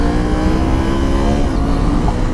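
A KTM 890 SMT motorcycle engine revving hard for a wheelie, a loud, close, sustained rasping roar with a steady pitch throughout.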